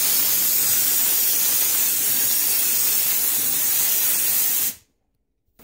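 A can of cold spray aerosol hisses steadily against an interior wall for several seconds, loud and continuous, then cuts off abruptly into silence.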